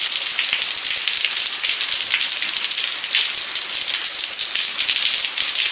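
Heavy rain pours down during a motorcycle ride, a dense, even hiss of drops hitting surfaces that holds steady and loud throughout with no voices.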